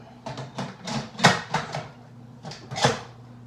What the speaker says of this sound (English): You're going to put your pressure lid on.